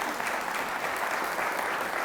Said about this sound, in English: let's have another round of applause in welcoming